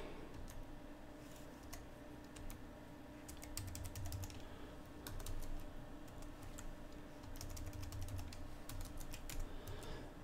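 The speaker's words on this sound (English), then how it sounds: "I'll just type the letter X" A computer keyboard is typed on during setup of Windows 10 in VMware: bursts of quick clicking keystrokes come in irregular runs over a low background hum, with no voice.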